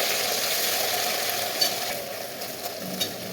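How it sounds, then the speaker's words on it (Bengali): Small fish frying in a pan over a lowered gas flame, a steady broadband sizzle running throughout with a few faint clinks and scrapes, no voices. "মাছ ভাজছি, গ্যাস কমিয়ে দিয়েছি আর একদিকে আমি সবজি কাটতে শুরু করেছি"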